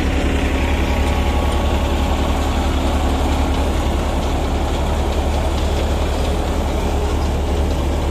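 A Massey Ferguson 241 tractor engine runs steadily while powering a thresher for pearl millet, a loud, continuous diesel drone with a constant low throb and no pauses.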